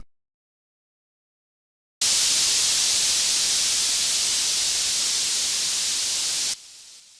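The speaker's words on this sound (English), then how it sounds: "here's another white noise that I made with silent" A steady wash of bright, full-band synth white noise made in Ableton starts abruptly after silence, holds evenly loud for several seconds, then drops to a quieter, duller tail.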